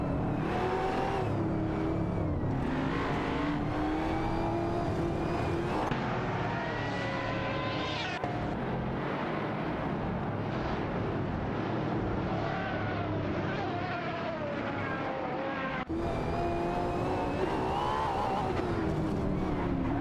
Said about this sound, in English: We are currently watching AI-controlled cars racing in a simulator.